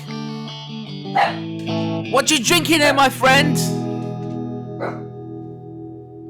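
A dog barks and yips a few times in quick bursts, loud and close, while someone talks over it.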